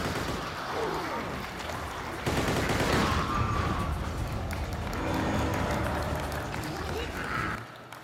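Continuous rattling gunfire and bursts from a shooter video game demoed on a Nexus 7 tablet, played loudly through a large venue's sound system amid dense, echoing game noise.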